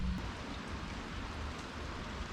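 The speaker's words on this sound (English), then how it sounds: "It's raining." Steady rain patters outdoors over a pebble walkway, a dense, even hiss of drops close by with no talk.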